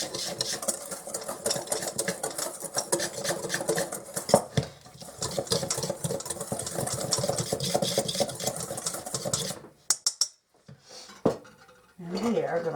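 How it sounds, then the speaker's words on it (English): A spoon scrapes and clinks steadily around a bowl as dry gravy mix with garlic and parsley is stirred, close and busy, then trails off into a few separate knocks and brief pauses. "We are going to mix this up."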